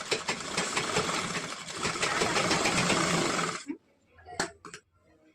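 A sewing machine stitches the tucked cup fabric of a katori blouse in a fast, steady mechanical whir for several seconds, then stops abruptly, leaving a few faint clicks and handling noises.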